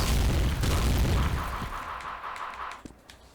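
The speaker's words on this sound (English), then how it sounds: "we actually have to back up because the explosion will kill us" An explosion in the Dark Legion VR game roars as a broad, rumbling blast that fills the opening and slowly decays, with a few small pops trailing off near the end.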